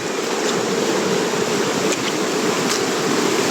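Rushing floodwater roaring in a continuous broadband wash, loud and steady with no breaks, heard alone without voices.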